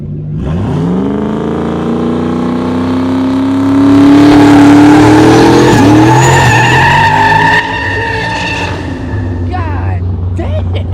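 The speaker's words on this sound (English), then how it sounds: "Go hit a wheelie in this one." A car is revved hard for a wheelie at a car show and G8/SS meet. The engine screams up loudly in pitch and holds near the top, with tire squeal, close and loud, under crowd voices.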